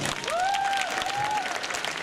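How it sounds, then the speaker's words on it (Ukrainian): A crowd claps in a brief, dense burst of applause at an outdoor event, with a voice calling out over it. "Оплески, панове."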